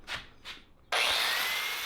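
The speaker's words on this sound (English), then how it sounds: "Start by trimming off the corner." A power saw cuts into the pinch seam corner of a vehicle body: two quick scraping strokes, then a loud, sustained high-pitched cutting whine that runs to the end.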